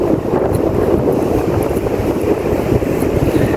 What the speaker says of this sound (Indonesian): anginnya cukup kencang di sini